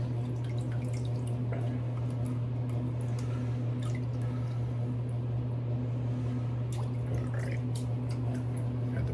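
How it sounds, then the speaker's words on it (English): A shaving brush is wetted with water in a bowl, producing soft drips and wet squishing close by over a steady low hum, with no talking. "Brush wet, got a little bit of water in the bowl too."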